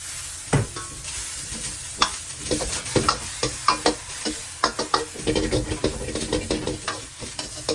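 Vegetables stir-frying in oil for pad thai with shrimp and egg, with a steady loud sizzle broken by sharp, repeated scrapes and clacks of a utensil against the pan.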